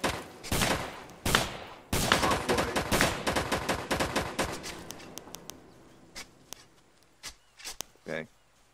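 Rapid bursts of gunfire from a SOG Prairie Fire match, loud and dense at first and thinning to scattered single shots, with someone talking over the shooting.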